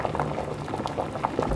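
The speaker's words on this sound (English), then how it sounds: "transfer your potatoes into said pot before filling with water, adding salt, and moving to the stove on a boil." A stovetop pot of potatoes in salted water at a rolling boil, with continuous bubbling and popping in a steady churning texture, close and loud with no voices.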